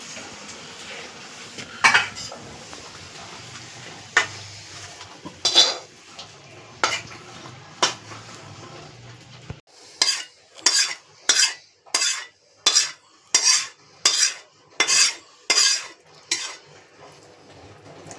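Shrimp pui pituli, a Bengali greens dish, being scraped out of a pan into a serving dish, heard as a series of sharp metallic spoon-on-pan knocks that grow into a steady, evenly spaced run of clanks near the end.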